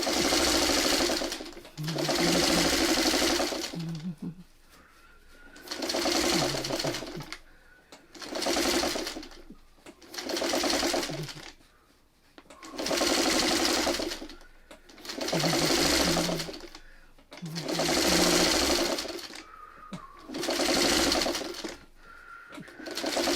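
A sewing machine stitches a quilt block in repeated bursts of a second or two, each separated by a short pause, loud and close with no talking.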